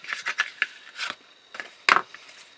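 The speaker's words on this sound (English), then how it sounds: "get the scissors back in for that" Scissors cut card while a handbag-style box is made, giving a series of short, close, crisp snips and rustles in uneven bursts, with a sharper louder cut near the end.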